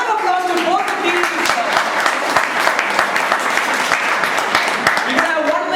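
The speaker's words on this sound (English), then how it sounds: "A round of applause to both the teams" Sustained applause from an audience for two debate teams, a thick even rattle of many hands clapping close by, with a voice faintly audible at the start.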